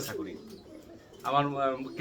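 Soft, low cooing of fancy pigeons nearby, a short call followed by a fuller rolling coo, with faint background noise.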